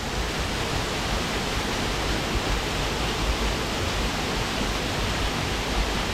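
Waterfall on the Trillium Gap Trail in the Great Smoky Mountains, an unbroken, full-bodied rush of falling water that stays constant and close, with no voices.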